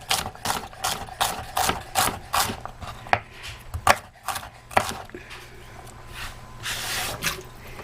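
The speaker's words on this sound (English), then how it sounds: "So I'm just going to chop this up." Celery is chopped with a knife on a cutting board in a home kitchen, a series of distinct irregular thunks and taps, close, with a washing machine humming faintly in the background.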